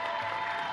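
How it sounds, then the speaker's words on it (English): A brief, dense wash of applause from an audience at a Borderlands 3 gameplay presentation, steady and full for under a second. "You can clap if you'd like."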